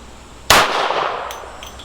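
A single sharp shot from a Smith & Wesson 52-2 pistol firing a .38 Special mid-range wadcutter at a range, loud and close, with a decaying ring after the crack.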